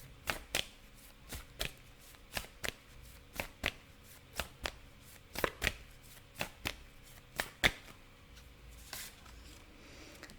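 Tarot cards being shuffled by hand, a quiet run of about twenty crisp riffling bursts at an even, brisk rhythm, heard close and alone.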